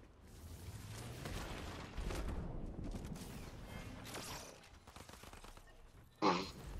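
Gunshots from the video game Fortnite, a scatter of distant cracks and short bursts over a murky background, with one louder, closer burst near the end.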